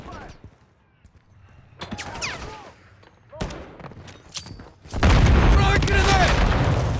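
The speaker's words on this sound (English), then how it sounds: "Taking effective fire!" Call of Duty match with rapid gunfire bursts, sharp single shots and a loud booming explosion near the end, mixed with shouted in-game voice callouts.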